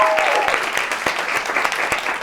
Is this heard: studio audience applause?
yes